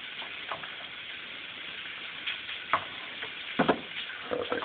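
Beaten eggs for an omelet cook in a hot pan with a soft, continuous sizzle. Scattered sharper crackles and scraping stirs come through close by, and no one speaks.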